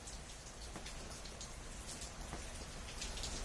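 Rain falls outdoors onto rocks, a faint, steady patter with scattered sharper drop ticks throughout and no voices.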